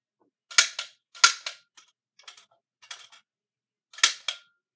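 Sharpshooter toy guns firing, each shot a sharp, loud snapping crack, in quick pairs and short bursts with gaps between, some shots quieter and farther off.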